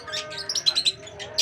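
Caged birds at a plant nursery give a quick burst of bright, close chirps and tweets, several short calls in a row with a low hum underneath.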